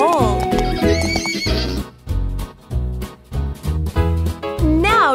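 A horse neighs loudly with a shrill, wavering whinny, followed by quick rhythmic clip-clop hoofbeats, then another rising whinny at the end.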